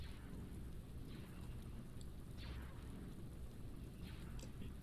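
Steady rain hisses across a planet battlefield in the strategy game Empire at War, a dense continuous wash of patter with faint rumbling underneath, holding an even loudness throughout with no talking.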